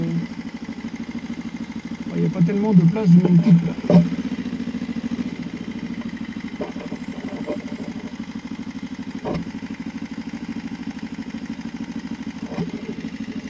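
A motorcycle engine idles with a steady low throb while being parked near the ramparts of Saint-Malo, briefly rising and clattering before settling back to a constant idle as someone talks over it.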